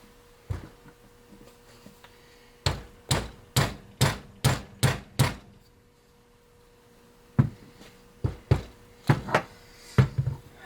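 Sharp hammer blows strike a metal rocker arm support on a Ford 172 diesel engine: a single hit, then a steady run of about seven strikes, a pause, and another irregular series of blows.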